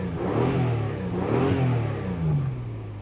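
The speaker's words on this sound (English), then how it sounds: "It is a very happy engine." A 1990 Acura Legend L V6 engine runs close by, its mid-pitched drone swelling and easing in a few gentle revs over a few seconds, with no talking.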